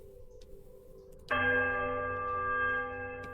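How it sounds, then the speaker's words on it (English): A smaller bell rung in the fantasy video game Pillars of Eternity, struck once and sustaining a bright, clear ringing tone that slowly fades, alone without talk. "Ring the smaller bell."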